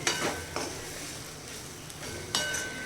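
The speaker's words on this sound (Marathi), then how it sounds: "मीठ ॲड केल्यानंतर पुन्हा आपल्याला छान असं एकजीव करून घ्यायचं आहे" Salt gets mixed into food in a pan, with soft frying sizzle under a few clear scraping and clinking spoon strokes, close and fairly loud.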